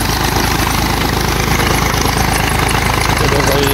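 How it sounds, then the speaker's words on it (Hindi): Diesel engine of a desi tube well pump running steadily and loud close by, a continuous low rumbling throb with fast pulsing, with voices talking over it. "भाई, ये ट्यूबवेल चलती पई है"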